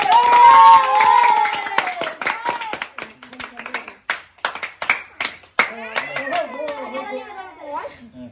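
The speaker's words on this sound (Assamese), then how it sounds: "এই তালি দি" Hands clap in a series of sharp, loud claps at an informal celebration, mixed with children's voices and talk that overlaps the clapping throughout.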